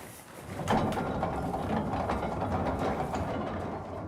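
A pony-driven stone mill crushes apples for cider with a continuous grinding, rumbling clatter and ratcheting mechanical rattle, moderately close and steady, with no talk.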